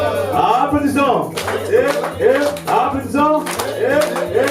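A worshipping crowd claps in a steady beat at the Malaki festival, a religious celebration at Peniel, with the sharp claps running beneath loud group singing.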